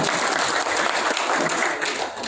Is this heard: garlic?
no